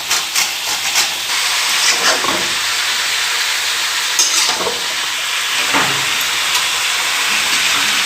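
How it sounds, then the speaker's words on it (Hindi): Chicken bubbling in a pot with turmeric, cumin, chili and ginger gives off a steady close hiss and simmering sizzle, with a few soft stirring clinks and no talking. "एट फर्स्ट चिकन को उबलाओ और उसके ऊपर हल्दी, जीरा, मिर्ची और अदरक मिलाओ और उसको उबालने शुरू करो"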